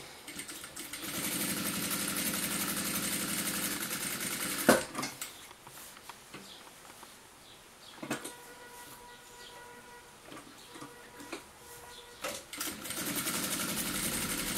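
A sewing machine stitches quilted matelassé fabric along previously sewn lines for a nesting-doll style pouch, a steady fast whirring hum in long runs, broken by pauses, clicks and handling of the cloth; no speech.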